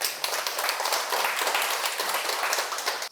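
An audience at a talk claps for about three seconds, a dense, lively patter of many hands that cuts off sharply at the end.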